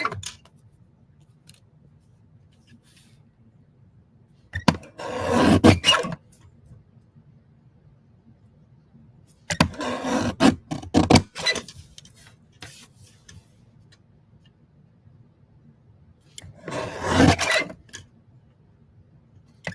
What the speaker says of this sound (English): And I will be trimming it down just a little bit.